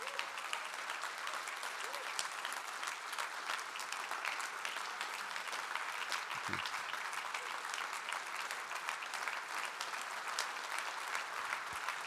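Audience applause at a large corporate business meeting in a hall, a continuous dense crowd clapping sustained at even volume from start to finish, heard from within the room.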